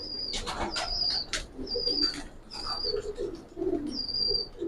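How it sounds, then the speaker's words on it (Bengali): A male pigeon gives soft, low, repeated coos close by, broken by higher chirps and brief wing flutters from nearby pigeons. "এটা একটা নর কবুতর"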